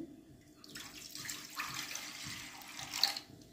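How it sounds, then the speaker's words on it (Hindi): Tap water pours steadily into a pot on a gas stove to steam idli, a continuous splashing rush that swells midway and ends with a brief splash, with no talk over it. "अब इसमें हम डालेंगे पानी,"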